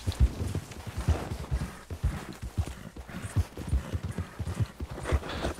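Rapid rhythmic hoofbeats of a horse galloping in the video game Red Dead Redemption 2, steady thudding clip-clop at moderate loudness, with no talking.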